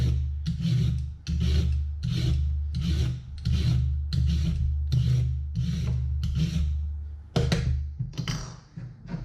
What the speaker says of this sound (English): with the peeler, just get rid of that coarse outer peel on the parsnip.